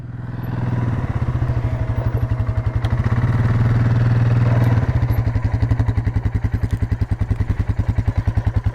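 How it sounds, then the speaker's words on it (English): Motorcycle engine on the Wild Rivers Coast, a loud, close, rapid thumping exhaust pulse that rises in pitch as it revs, drops briefly, then keeps chugging as it moves off. "There goes my bike."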